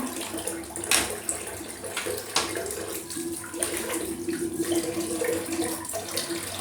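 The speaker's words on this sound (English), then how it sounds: "I think we're going to have a bit of a rinse" Tap water runs steadily for a rinse after a shave, a constant close splashing hiss with a couple of brief louder splashes and no talk.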